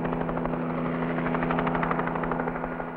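A helicopter hovers close over a racing yacht at sea, its rotor chopping in a steady rapid pulse over a constant engine drone, loud and unbroken for the whole stretch.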